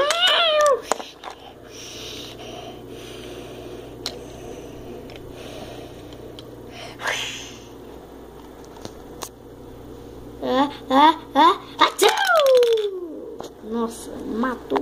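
A cat meows several times over a quiet room tone, with a short cry near the start and a cluster of louder meows toward the end, and faint rustling in between.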